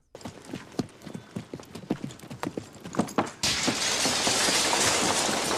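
Horse hooves clip-clopping in a quick, irregular rhythm on a hard surface, then cut off abruptly as a loud steady hiss takes over.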